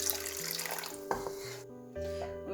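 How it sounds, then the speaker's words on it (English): About three tablespoons of water poured into drying masala in a pan for a kofta meatball curry, a steady close splashing and running-water wash with a faint hum underneath, no talk. "next we're gonna put some water in, around 3 tablespoons."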